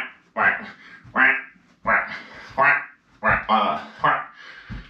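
A person doing squat waddles in a HIIT workout imitates duck quacks with the voice, short loud nasal bursts in quick repeated pairs, close up.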